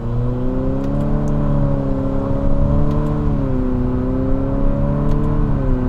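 A 2020 Infiniti QX50 pulls away from a traffic light under manual shifting, its engine drone rising steadily in pitch, dropping briefly at a gear change, then climbing again; a close, continuous, subdued interior engine hum with no talk.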